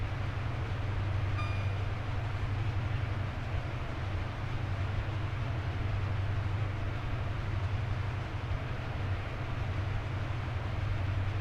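A train running on the Brighton to London route in Train Sim World 4, a steady low rumble and drone throughout with a brief faint tone early on, no talking.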